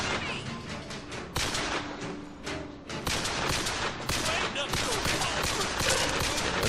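Dense, continuous gunfire in BioShock Infinite on 1999 Mode, with rapid overlapping shots and impacts forming a loud, sustained barrage with hardly any pause.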